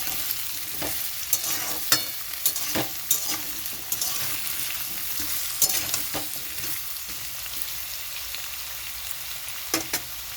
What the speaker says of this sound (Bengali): পেঁপেটা একটু ভাজা হবে